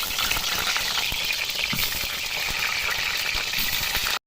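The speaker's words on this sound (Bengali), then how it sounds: "তেলটা গরম হয়ে গেছে, আলুগুলোকে ভেজে নেব" Potatoes fry in hot oil in a wok for a chicken kosha dish, a loud dense sizzle and crackle with spatula scrapes and clinks throughout, close and continuous without talk before stopping suddenly.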